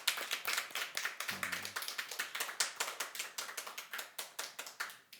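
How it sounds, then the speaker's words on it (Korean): A church congregation claps during a Sunday worship service, giving sharp, fairly even handclaps that carry on steadily throughout, close and clear, with no speech over them. "예수님께 감사의 박수 올려드리겠습니다"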